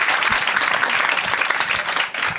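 Brief, lively applause from a live audience answering a comedian's question, many hands clapping in a dense, slightly uneven patter that stays loud throughout the short burst.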